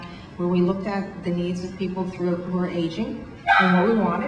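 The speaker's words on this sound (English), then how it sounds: "I have to apologize for my dog today." A pet dog barks and yips repeatedly in short bursts, fairly close, underneath a man giving a presentation on products for aging people.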